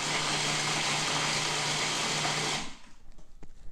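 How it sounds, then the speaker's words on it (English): A food processor whirring on sugar plum ingredients, a loud steady motor roar for about two and a half seconds that then cuts off, leaving faint rattles and quiet room tone. "All you have to do is bung all those things in the food processor and give it a couple pulses"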